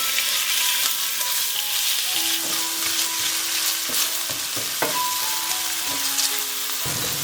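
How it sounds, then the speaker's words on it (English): Ground meat sautéing in a reheated pan with a little oil, a dense, loud, continuous sizzle with occasional faint utensil clinks, with no voices. "Add in the ground meat and saute."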